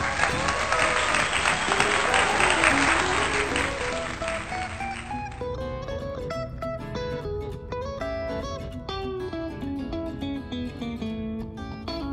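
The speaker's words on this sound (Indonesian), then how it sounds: "tepuk tangan dulu." A crowd claps at an evening street event in Semarang, with dense applause that is loudest at the start and fades after about five seconds into steady tonal background sound.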